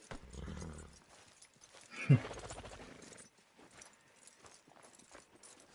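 Horse hooves clip-clop in Red Dead Redemption 2, a quiet rhythmic patter under game dialogue and a louder burst of sound partway through.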